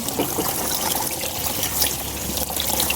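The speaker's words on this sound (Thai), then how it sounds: "วู้เปิดน้ำแรงเลย" Tap water pours hard over a basket being rinsed, a steady close rushing trickle with no break and no voices.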